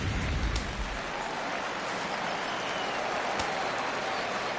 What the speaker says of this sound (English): No better way to get the home crowd into it right out of the gates.